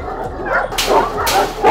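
Kangal dog barking and yipping up close, a few sharp loud barks in quick succession with whimpering tones between them.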